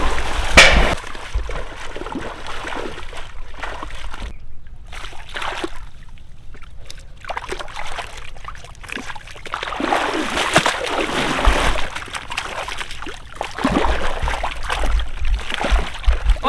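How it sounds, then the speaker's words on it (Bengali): Young jackfruit being washed by hand in water, with repeated splashing and sloshing up close as the pieces are rubbed and turned, steady throughout with occasional louder splashes. "বন্ধুরা আমরা ভালো করে কাঁঠালগুলো পরিষ্কার করে নেব"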